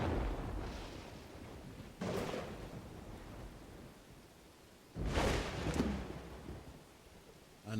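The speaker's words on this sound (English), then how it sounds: "Another person struck by lightning." Lightning strikes in the video game Dawn of Man land as two or three sharp cracks followed by rumbling thunder, over a low ambient game backdrop.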